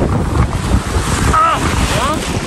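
Strong surf and gusting wind on Boracay beach under cloudy skies, a steady roar of breaking waves with heavy wind buffeting the microphone, a couple of faint tonal calls rising briefly above the noise.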